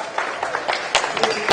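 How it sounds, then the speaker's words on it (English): A crowd at a sports match applauds a player with light, scattered clapping at moderate distance, brief and fairly faint, with some voices mixed in. "Applause for Cocheril."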